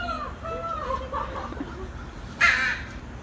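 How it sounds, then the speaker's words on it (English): Several crows cawing outdoors in the morning, a string of harsh calls early on followed by a louder, nearer caw near the end, with faint human voices underneath. "Crows came this time. Lots of crows."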